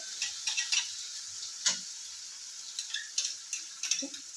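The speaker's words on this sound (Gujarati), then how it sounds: "ઝીણો સમારેલો કાંદો છે ને એને મિક્સ કરવાનો છે" Finely chopped onion sizzles in a pan for a gram flour (besan) curry while a spoon stirs it. Steady frying hiss runs throughout, broken by close, irregular scraping taps.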